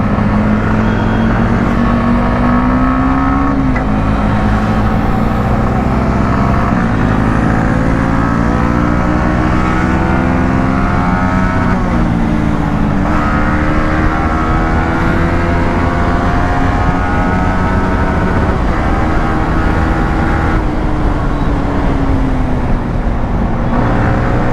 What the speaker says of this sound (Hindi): अब थोड़ा ना टेस्ट करते हैं भाई बाइक के टायर को, स्पीड पे भाई कितनी स्टेबल है।